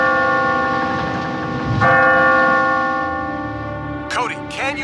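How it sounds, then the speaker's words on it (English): A large settler's bell in the animated Rescue Bots series rings with bright, resonant tones that sustain and fade, followed near the end by quick rising chirpy effects. "Do you hear that? It sounds like a bell."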